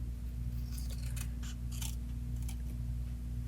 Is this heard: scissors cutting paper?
yes